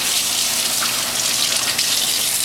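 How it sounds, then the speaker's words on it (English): A kitchen sink tap runs steadily, a close, full gush of water pouring for a couple of seconds without pause or voices, while spatulas and scrapers wait to be rinsed. "turn on the water"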